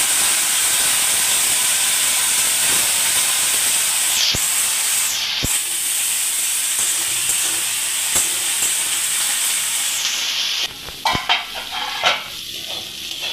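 Capsicum and other vegetables sizzle steadily in a hot kadai, a continuous broadband hiss with occasional sharp clicks of stirring, the frying dropping off toward the end as utensils clatter near the pan.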